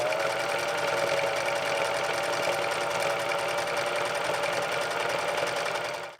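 A sewing machine runs steadily, top stitching a little dress for Haiti at close range, its motor hum and rapid needle rhythm continuous and even throughout.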